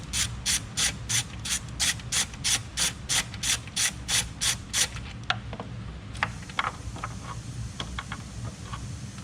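A ratchet wrench loosens the 13 mm nut at the centre of the engine cover on a 3.0 twin-turbo engine. About a dozen quick, even clicks come close up, followed by softer metallic handling and taps.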